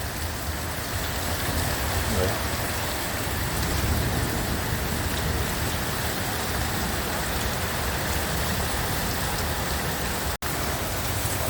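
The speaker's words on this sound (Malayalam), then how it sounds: "മഴ പൂർവാധികം ശക്തിയായി തുടരുകയാണ്" Heavy rain pours steadily during the 2024 Ajman flood around a villa, a dense, constant roar of downpour on surfaces with no voices, continuing unbroken apart from a split-second dropout near the end.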